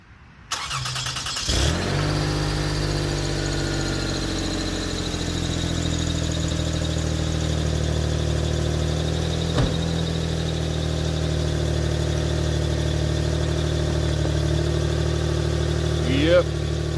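A 2004 Toyota Sienna engine with a leaking exhaust Y-pipe, louder at the front, cranks and catches, then settles into a steady, loud, close idle with a raspy exhaust tone throughout.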